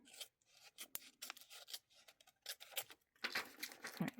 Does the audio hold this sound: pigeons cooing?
no